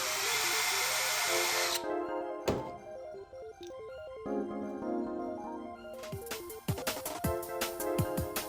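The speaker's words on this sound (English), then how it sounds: "held in place by a rivet which I'll have to drill into in order to remove it" A power drill whines in bursts, drilling out a rivet on a diecast model truck, starting loud, slowing and pitching down, then revving again amid clicks and knocks close by.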